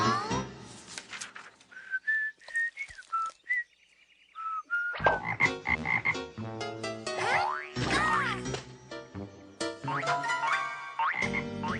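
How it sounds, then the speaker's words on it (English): A cartoon frog croaks in a series of springy, whistling calls, loud and close, with a brief quiet gap near the middle and no talk. "This frog, it belongs to Pepito."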